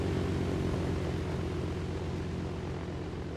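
Helicopter engine idling in ARMA 2 DayZ, a steady low droning rotor hum with a constant throbbing rumble, moderately loud and unbroken, with no talk over it.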